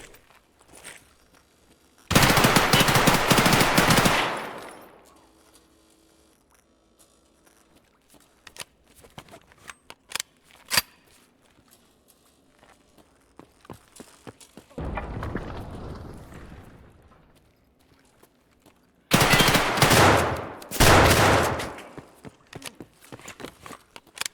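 Loud sustained bursts of automatic gunfire in the shooter game Escape from Tarkov cut through near-silence, with one long volley near the start, a fainter one in the middle and a double burst toward the end, plus scattered sharp clicks.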